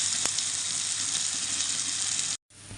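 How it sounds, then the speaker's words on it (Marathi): Cumin, mustard seeds and ground masala hit hot oil in a kadhai, a loud close sizzling hiss that holds steady, breaks off briefly, then resumes. "कढईत तेल चांगलं तापलेलं आहे त्याला टाकायचं आहे जिरा राई आता टाकायचा आहे मसाला जो आपण वाटून घेतलेला आहे"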